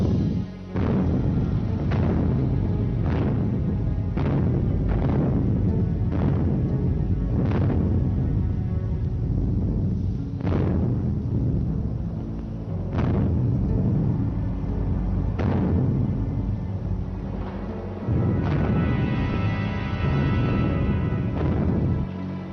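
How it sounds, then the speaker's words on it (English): Massed Soviet artillery bombardment in the Winter War of 1939, a continuous loud rumbling barrage punctuated by repeated heavy booming blasts every couple of seconds, with no voices. "Before dawn on the 14th of December, massed Soviet artillery opened up its first major bombardment of the war."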